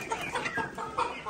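Chickens and roosters cluck close by in a quick, uneven run of short calls, with no other sound around them.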